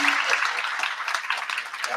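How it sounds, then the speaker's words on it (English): Applause from a symposium audience at a humanities event, dense steady clapping from many hands filling the room for two seconds with no break. "Let's get one more big round of applause from both groups."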